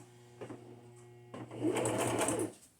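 A sewing machine stitches through paper for a junk journal with a short burst, a pause, then a louder, longer run of rapid mechanical whirring and clicking up close.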